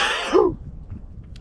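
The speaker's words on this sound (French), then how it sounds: "Oh, attention, je vais éternuer." A single sneeze from a person inside a camper van, a sharp burst with a short breathy lead-in, followed by quiet background.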